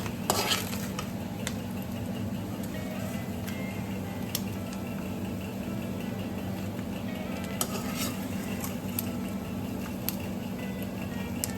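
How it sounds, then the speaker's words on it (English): Cooked anchovies are lifted from a pan onto a plate with a steady background sizzle and repeated light scraping and clinking of a utensil against cookware. "I'm going to take it off from the pan and load it onto my"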